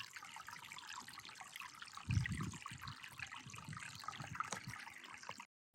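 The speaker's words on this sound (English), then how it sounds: "you have a brook flowing here" A small brook flowing through the woods in Maine, a soft continuous trickle and babble of water with a brief louder gurgle partway through, heard close with no voices.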